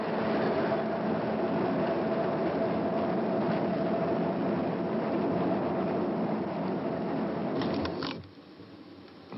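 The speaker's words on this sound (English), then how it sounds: "we have the real sound of a subway train" A subway train rumbles and roars steadily with a faint tonal whine, then the noise drops away abruptly near the end.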